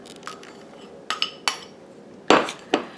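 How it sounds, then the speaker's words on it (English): Blackberry and raspberry pie ingredients are stirred together in a bowl, producing a handful of separate clinks and knocks of a utensil against the bowl, one heavier scrape-thud near the end, over quiet background without talking. "we're going to stir them together"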